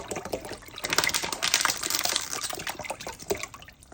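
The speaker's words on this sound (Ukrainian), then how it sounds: "Приблизно наливаю пів кастрюльки води" Water pouring and splashing into a pot, filling it about halfway for chicken broth, a continuous gurgling, sloshing stream heard up close.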